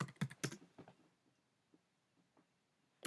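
Computer keyboard typing, a quick cluster of close, quiet key clicks at the start, then sparse faint taps and a final click, with no talk.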